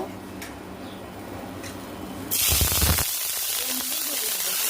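Dried fish (shutki) hits a hot pan and sets off a loud, steady sizzle and hiss that swells suddenly and keeps going. A few faint ticks come before it.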